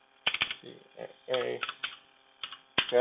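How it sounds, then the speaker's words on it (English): Keys on a computer keyboard struck in short close clusters of crisp clicks, with a voice speaking briefly in the pauses between them. "We type Git Status"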